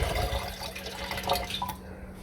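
Wash water being poured off a settled gold-recovery solution from diodes, a soft steady liquid trickle and splash, close and fairly quiet, ending abruptly after about two seconds.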